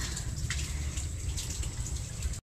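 Cooling water runs steadily over a lambanog still while the coconut-sap liquor drips out, a continuous near trickle with low rumble and no talk.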